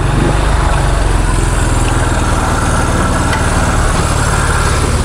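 A roughly fifty-year-old Honda Enduro motorcycle engine idles steadily with a dense, low, even putter, loud and close, with no talk over it.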